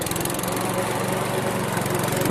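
A lawn mower engine runs steadily and loudly up close, a continuous buzzing drone with a fast pulsing rhythm and no voices.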